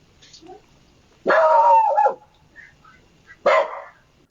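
A dog comes out onto a porch and barks in two loud, separate bursts with short whimpering yips between them, fairly close by.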